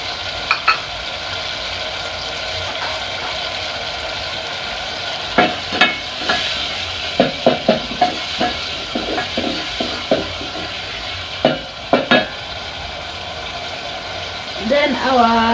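Grated tomatoes fry in a pilau pot, a constant sizzle under repeated sharp scraping clicks from a spoon stirring, spaced irregularly and clustered in bursts; a voice speaks at times.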